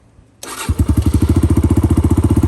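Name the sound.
Kawasaki KLX140 dirt bike engine starting with choke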